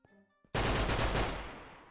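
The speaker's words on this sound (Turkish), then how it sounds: "silah sıkıyorum. Duydun mu?" A gun in a Minecraft game fires a single loud, close burst after a moment of quieter game sounds, then trails off over about a second.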